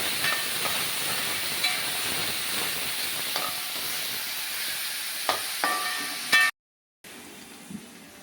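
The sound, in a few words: nutmeg frying in hot oil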